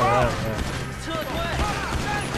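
Gunfire in Grand Theft Auto V: a few sharp shots crack out amid game noise while someone talks excitedly over them.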